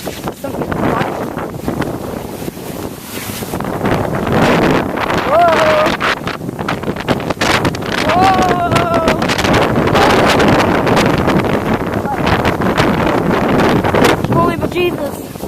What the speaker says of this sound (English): Okay, so it's getting really windy.